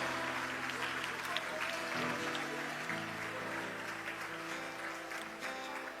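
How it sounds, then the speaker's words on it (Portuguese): A church congregation claps together in a steady round of applause, with a sustained musical tone and voices carrying underneath throughout. "Glória a Jesus, dê mais uma salva de palmas"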